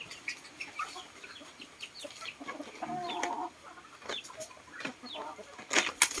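Chickens cluck in the open over low background noise, with scattered short calls, some faint and some nearer and louder, plus brief bursts that may be wing flaps.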